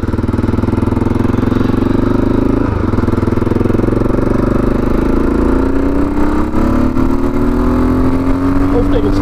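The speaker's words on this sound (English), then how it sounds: "See what the bike will sound like." A 1996 Aprilia Pegaso 650 motorcycle cruises on a blustery motorway, its engine drone steady and loud under heavy wind buffeting, with pitch rising gradually toward the end.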